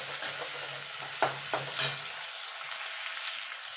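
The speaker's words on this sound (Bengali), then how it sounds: "এবার হালকা করে এগুলো ভেজে নেব।" Prawns and other ingredients fry lightly together in a pan, with a soft sizzle under a few sharp stirring scrapes and clinks of the utensil. The cooking sounds are close and moderately quiet, and nobody speaks.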